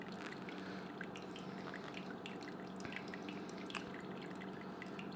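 Water poured slowly in a circular motion over ground coffee in a Bodum pour-over maker, making a faint, steady trickle and drip that runs on without any talking.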